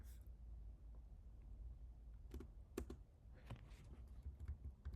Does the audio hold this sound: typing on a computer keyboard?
yes